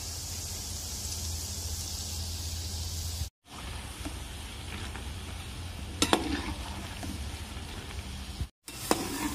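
Cashews frying in hot oil in a pan, a soft, even sizzle with occasional stirring scrapes and a few sharp clinks, broken by two short silent gaps.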